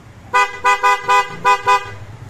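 A Bristol Maxie 400 motor scooter horn, mounted on a powder-coated stainless bracket, toots six short, loud, evenly spaced beeps close to the listener.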